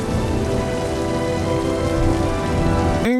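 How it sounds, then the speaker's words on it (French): Steady rain pours onto surfaces in a TV series scene, a dense continuous hiss with no breaks, ending in a brief tonal sting; no talking. "Oh, vas-y, il se met à pleuvoir en plus."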